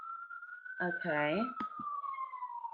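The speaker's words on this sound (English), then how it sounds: "sorry about the sirens, you guys, if you can hear that." An emergency siren wails outside, a steady slowly falling tone running through the whole moment, moderately loud, while someone speaks briefly over it.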